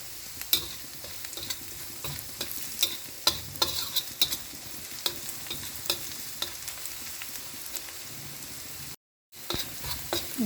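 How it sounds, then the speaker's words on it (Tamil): Clams sauté in sesame oil in a pan, a soft continuous sizzle broken by frequent light clicks and scrapes of a stirring utensil, quiet and close, with a brief dropout near the end. "நல்லா வதக்கிக்குங்க"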